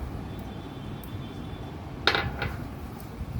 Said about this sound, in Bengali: এইবার আমি এই বাটিটা তুলে দেবো।